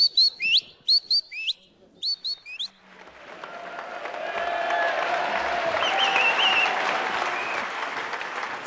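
Several short, high whistled phrases by a person imitating a tit's call, then a large audience breaks into sustained loud applause.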